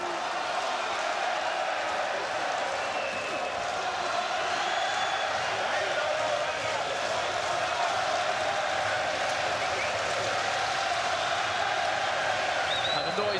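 Boxing arena crowd during a Ryan Burnett versus Zhanat Zhakiyanov fight roaring steadily, a dense constant wall of cheering and noise in the late rounds, with a commentator speaking over it.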